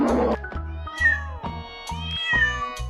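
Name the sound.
cat meowing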